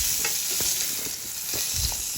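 A fish head fries in oil in a wok, producing a steady close sizzle with a few soft knocks and stirring sounds, no speech.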